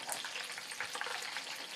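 Food deep frying in hot oil gives a dense, steady crackling sizzle with scattered pops, close and continuous.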